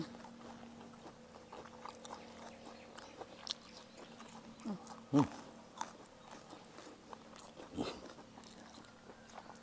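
Someone chews grilled pork neck dipped in jaew bong chili paste, with soft, sparse bites and a few louder crunchy chews close by over a quiet background.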